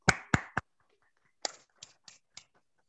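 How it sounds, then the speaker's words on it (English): A few scattered claps from students in an online English business communication class, three sharp close hits followed by several softer, spaced claps, with no talking. "please clap for Goku"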